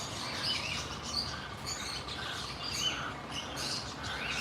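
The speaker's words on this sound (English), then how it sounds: "So there's some canaries." Canaries chirping in a tall aviary in Bournemouth, light high tweets scattered over steady outdoor background noise, no talking.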